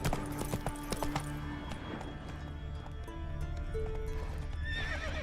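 Roach the horse in The Witcher 3 gives a loud whinny over brisk clip-clopping hooves, followed by quieter snorts and footfalls.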